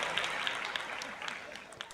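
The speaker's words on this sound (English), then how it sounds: "Let's give you a round of applause." A round of applause sound effect on a baseball play-by-play live stream for a Phillies versus Padres game, dense clapping fading over two seconds as a voice starts talking over it.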